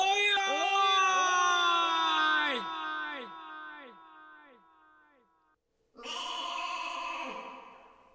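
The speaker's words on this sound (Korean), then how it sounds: "이건 양 울음소리잖아?" A sheep lets out a long, quavering, stepwise bleat that fades out, then a shorter second bleat after a brief pause.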